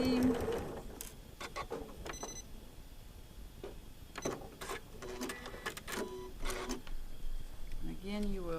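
A sewing machine stitches along a seam for a cactus spinning star quilt block, in short bursts of rapid mechanical whirring separated by pauses, with a voice talking between runs.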